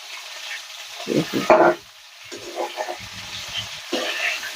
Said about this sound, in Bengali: শুধু কপিগুলো ভালো করে উল্টে পাল্টে ভেজে নেবে